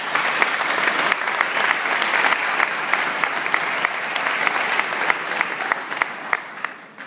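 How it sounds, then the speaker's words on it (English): A large audience at a business convention applauds loudly and steadily for seven seconds, dense clapping with a few sharper individual claps standing out, no voices on top. "Big round of applause for these people,"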